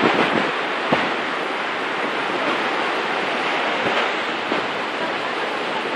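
Ocean waves breaking on a beach make a loud, continuous broadband rushing wash with a few sharper surges, heard close up.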